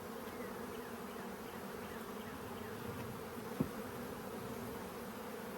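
Honeybees buzzing on hive frames during a modified Demaree split: a dense, constant hum close up, with one faint click partway through.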